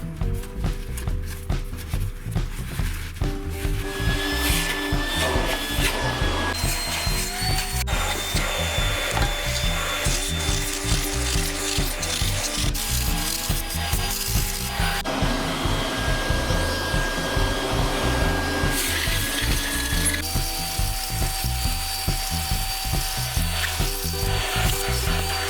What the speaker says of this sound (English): After we vacuumed out all the contaminated material